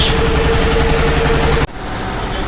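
A trawler boat's engine running at evening, a loud steady diesel drone with a constant hum that cuts sharply to a quieter idle partway through.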